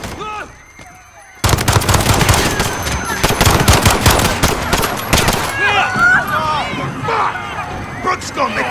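Sustained automatic gunfire in the Call of Duty Modern Warfare campaign, set in London's Piccadilly, bursting suddenly after a quiet moment into loud rapid shots with shouting voices mixed through the barrage.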